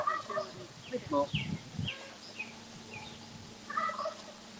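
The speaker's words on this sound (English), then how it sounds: "she loves listening to your birds" Several birds calling in short bursts, including gobbling, turkey-like calls, outdoors at moderate distance with faint background noise and brief murmured voices.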